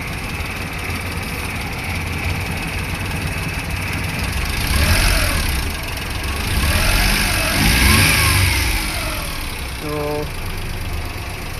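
Suzuki F6a engine in a 4x4 with a replaced head gasket and an overheating fault, running steadily and rising twice into revs before settling, loud and close, with brief talk over it.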